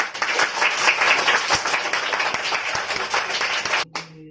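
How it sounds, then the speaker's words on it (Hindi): Children applaud at a Teachers' Day celebration in a coaching class, a dense burst of many hands clapping for about four seconds before stopping abruptly. "थोड़ा सा ताली मारिए।"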